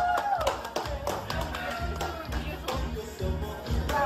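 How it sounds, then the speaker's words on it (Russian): Wedding guests clap at a reception, a steady patter of hands under music and voices that carry on throughout. "Аплодисменты, дорогие друзья!"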